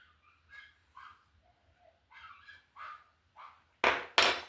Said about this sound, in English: That's my dog wanting in.